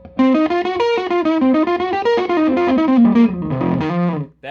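Slowed-down electric guitar lead, played with distortion and effects: a continuous run of sustained, bent notes that glide in pitch, with the strings re-picked while already bent, loud and close, no talking.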